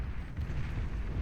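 Rumbling explosions as units are blasted apart in a Beyond All Reason 8v8 deathmatch, a dense, continuous low boom with little variation over the short stretch.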